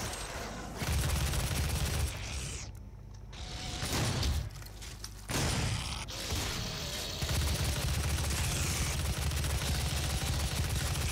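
Heavy weapon fire from DOOM (2016), in dense loud bursts with brief lulls and rumbling booms layered with mechanical clanks, continuing almost without pause.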